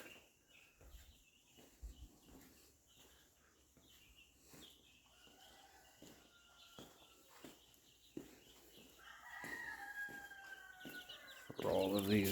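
Chickens clucking around a chicken tractor, scattered soft clucks and calls that grow busier and louder toward the end, with faint background noise.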